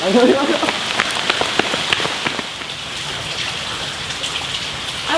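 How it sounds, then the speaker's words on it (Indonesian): Steady rain falling outdoors, a dense hiss of drops pattering on surfaces close by, continuous and fairly loud, with a voice briefly audible at the start. "hujan Yud"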